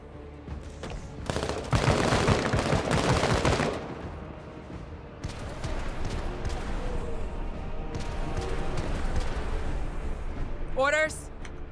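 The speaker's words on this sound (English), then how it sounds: "That plasma rifle is actually so good." Plasma rifle fire in the tactical game Menace: a few bursts of shots, strongest early on, followed by quieter rattling fire and a sharp rising zap near the end, with a voice talking over it.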